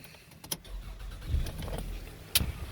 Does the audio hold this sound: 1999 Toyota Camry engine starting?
yes